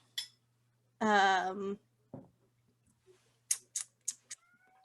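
A house cat gives a single drawn-out meow, close and fairly loud, followed by a few short soft clicks and knocks in an otherwise quiet room.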